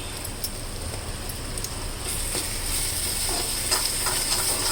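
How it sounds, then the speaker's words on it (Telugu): Chili powder and coriander powder frying in a pan for a potato gravy, a steady close sizzle and hiss that grows louder midway, with faint stirring scrapes. "దీంట్లో ఒక స్పూను కారం వేసుకుంటాం ఇది వేగుతున్నది కదా"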